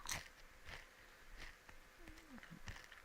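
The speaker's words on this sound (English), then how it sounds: "Apologies if you can hear the crunching of my chip." A chip being chewed close up, with soft irregular crunches and bites spread over a few seconds against a faint background.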